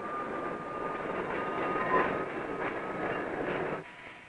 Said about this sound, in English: Other trains have brought cars to this yard from all over the western United States and Canada.